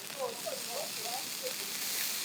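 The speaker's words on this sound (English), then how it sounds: "It's a very thick steak. It's taking a long time to cook" A very thick steak sizzling on an outdoor barbecue, a steady broad hiss running throughout at close range, with a voice talking faintly over it.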